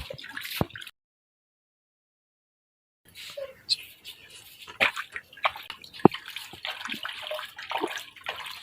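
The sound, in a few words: rabbit being bathed in cold water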